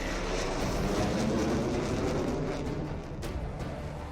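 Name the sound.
Rafale fighter jet landing on Ganga Expressway airstrip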